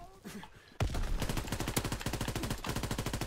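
Automatic gunfire shooting through a wall in Call of Duty: WWII, a sudden loud burst of rapid, evenly spaced shots that runs continuously for several seconds after a quieter lead-in, with faint talk underneath.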